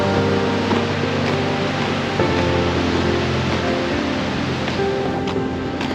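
Goðafoss waterfall in Iceland pours in a steady, loud broadband roar of rushing water, constant and close with no pauses.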